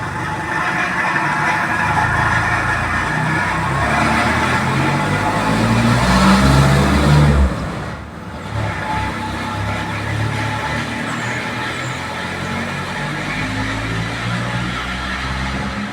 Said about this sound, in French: on va attendre que la voiture parte